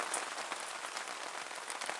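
Rain patters lightly on a log pile, a faint, steady hiss with scattered soft drop taps.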